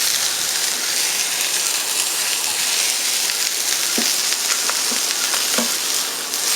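Island pork burgers sizzling on a bling grill top: a loud, steady hiss of frying fat, close, with a few faint taps and scrapes near the end and no talking.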